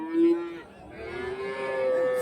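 Young milk-fed calves moo at a cattle market in Karimangalam, Dharmapuri district, with a short low call followed by a longer drawn-out moo, fairly close, over faint background murmur.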